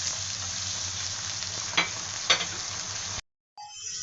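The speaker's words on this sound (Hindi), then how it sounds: "ये प्याज हमने ऑयल पे डाल दी है।" Onions sizzle in hot oil for bhindi chicken, a steady close frying hiss with a couple of sharp stirring clinks, cut off briefly before a short tone.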